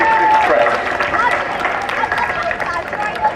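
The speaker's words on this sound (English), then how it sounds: "Let's hear a nice round of applause for the HCL Gymnastics Express." A parade crowd at a veterans' parade applauds steadily and fairly loudly for a gymnastics group passing by, with scattered cheers and chatter mixed into the clapping.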